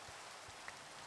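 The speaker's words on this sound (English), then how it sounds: "It's raining. Great. Makes it very, very hard to see." Steady rain hisses in Minecraft SevTech Ages, a soft even wash of falling drops with no voices.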